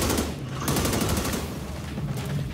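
Rapid automatic gunfire crackles in the video game The Division 2, in dense, loud bursts that overlap for the whole stretch.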